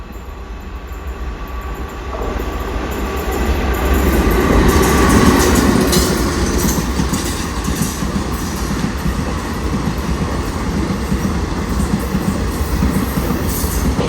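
The Thiruvananthapuram–Mangalore Ernad Express passes on the Ernakulam–Thrissur line in Kerala, a loud, close rush of wheels and wagons rising after a quieter start and rolling steadily on with a faint clickety-clack.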